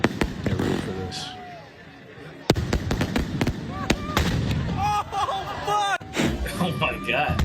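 Loud neighborhood fireworks boom like cannon shots, heavy blasts spaced a second or so apart amid crackling bursts and whistling rockets, with people talking and exclaiming over them.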